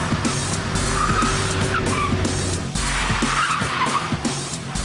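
A Ford Focus ST corners hard with lift-off oversteer, its tyres squealing in repeated bursts over a steady engine roar and road rumble, loud and sustained throughout.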